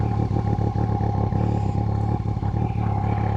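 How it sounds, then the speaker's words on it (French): A Yamaha MT-09 SP motorcycle sits idling after being started, its engine giving a steady, close, continuous rumble with rapid pulsing and no voices. "moto est démarrée."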